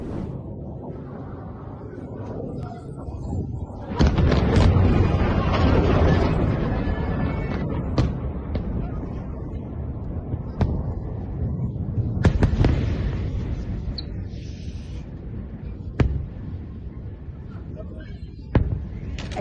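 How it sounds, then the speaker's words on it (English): Booming explosions from Iranian missile strikes echo through Tel Aviv, a loud rumbling blast around five seconds and sharp bangs later, with faint voices in the background. "explosions occurred in the city"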